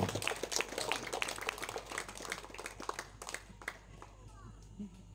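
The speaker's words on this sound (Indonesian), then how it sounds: "tepuk tangan untuk beliau" Scattered hand clapping from a crowd at a political gathering in Tanimbar, uneven sharp claps spread over several seconds, mixed with chatter and children's voices in the background.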